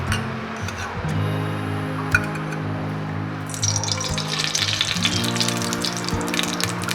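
Ghee heats in a pressure cooker while coconut milk ghee rice is being prepared. It makes a steady crackling sizzle that thickens and grows louder partway through, over a low background hum.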